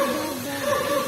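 A bird at a bird park show mimicking a small dog's bark, a brief yappy, puppy-like burst, close and fairly loud.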